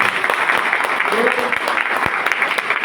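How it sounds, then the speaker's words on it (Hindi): An audience at a seminar in Giridih claps vigorously, a dense, continuous burst of applause lasting a few seconds with a voice faintly underneath. "एक बार जोरदार ताली।"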